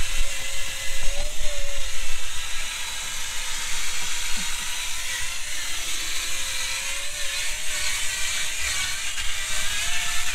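A power drill fitted with a bristle brush scrubs pet hair from car upholstery, giving a steady high whine with a rough scrubbing rasp underneath. It is slightly louder in the first couple of seconds and runs continuously throughout.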